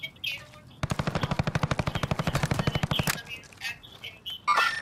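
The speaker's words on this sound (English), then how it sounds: "Stop shooting at me." Automatic gunfire in Call of Duty: Modern Warfare Warzone, a loud sustained burst of about two dozen rapid, evenly spaced shots lasting over two seconds, with a few sharper sounds and brief voice-like bits around it.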